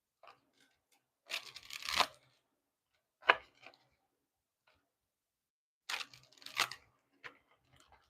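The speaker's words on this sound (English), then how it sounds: "I have two more decks to shuffle and then we're going to be getting started" Decks of divination cards are shuffled by hand in three quick bursts of papery riffling and flicking separated by short silences. The sound is close but quiet, with no talk.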